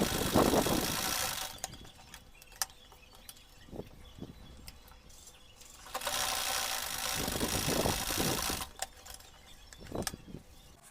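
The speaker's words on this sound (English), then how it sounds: "So I'll be making some neat top stitches on our brim." Sewing machine running in two long bursts while top stitching the brim of an Ankara baseball cap, with a pause and scattered handling clicks between runs; close-up and moderately loud, no voice.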